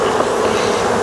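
Honeybees inside an observation hive, a dense, loud, continuous buzzing hum from a busy colony close by, with no voices.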